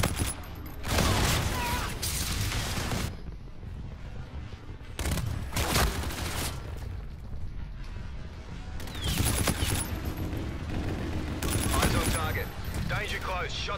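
Gunfire in the shooter game Call of Duty: Infinite Warfare comes in several loud bursts of rapid shots separated by quieter stretches. A player's voice is heard between the volleys.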